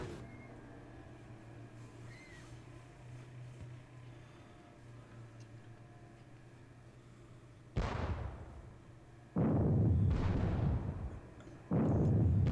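Artillery fire in the Napoleonic wargame WDS Battle Around Salamanca: three heavy booming blasts in quick succession, loud and near, after a quiet stretch of low ambient rumble.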